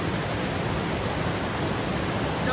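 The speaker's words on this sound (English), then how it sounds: "And a lot of water going through Hall Creek." Water rushing through Hall Creek on a hike near I-90, a constant broadband roar of flowing stream water, close and unbroken, with no voices.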